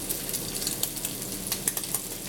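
Strips of vegetable peel sizzle and crackle steadily in hot frying oil, a continuous close hiss dotted with small pops and no voices.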